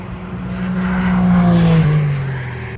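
An Acura NSX on a lap of the Spa-Francorchamps circuit holds a loud, steady engine drone from inside the car, with the pitch easing gradually downward.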